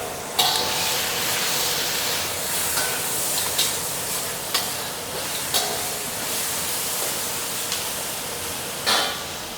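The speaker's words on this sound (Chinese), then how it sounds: "螺丝椒下去炒" Screw peppers stir-fried in a hot wok with pork lard cracklings, a steady sizzle and hiss running throughout, broken by periodic scraping clanks of the spatula against the pan every second or two.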